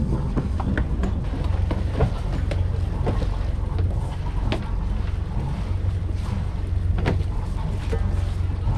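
Motor sailboat leaving port under engine power after the mooring line is dropped, a steady low engine rumble with wind and water noise and scattered knocks and clatters nearby, continuous and moderately loud.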